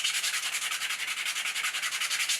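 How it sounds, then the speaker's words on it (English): Sanding the edges of a leather bifold wallet by hand, a fast, even series of rhythmic scratchy rubbing strokes, close and fairly quiet, with no talking. "So once you've given those edges a sand, optionally a bevel,"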